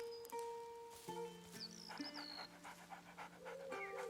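In A Plague Tale: Innocence, a large hound pants softly while being petted, with quick breathy puffs mixed with faint game music and background sounds, fairly quiet overall.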